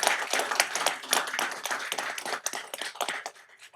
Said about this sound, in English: I think you should get applause for